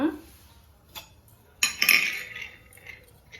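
A metal pan goes down on a kitchen stove with a sharp clanking clatter midway, after a few lighter clinks, all close by and without talk.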